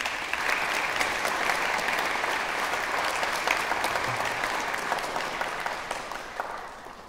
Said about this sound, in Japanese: そのヒントをくださった方に大きな拍手をお願いします。